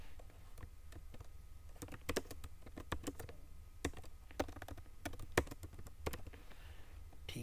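Rapid computer keyboard typing while text is entered for a poster design in Photoshop: close, irregular clicks and clacks in quick bursts over a quiet room, with no talking.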